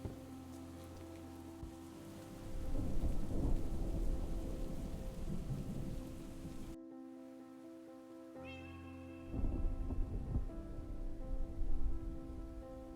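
A Minecraft downpour: a steady rain hiss with deep rolling thunder swells, cutting out briefly before the storm resumes with louder rumbles, under a droning game backdrop with no talk.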